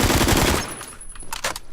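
Assault rifle gunfire in the Roblox shooter Phantom Forces, a dense loud burst of rapid shots at first, then a few sharper separate cracks spaced out near the end.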